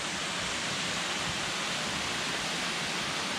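Water rushes steadily through the deep rock chasm of Kinsman Flume, a continuous, fairly soft roar with no voices.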